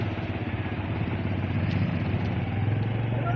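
Motorcycle engine running close by in a village-road traffic jam, a steady mid-pitched rumble with slight clatter as it edges through slow traffic, no talk.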